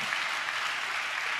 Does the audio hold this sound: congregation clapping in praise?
yes